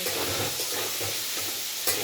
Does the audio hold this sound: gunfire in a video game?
no